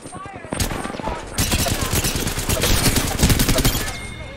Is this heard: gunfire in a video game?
yes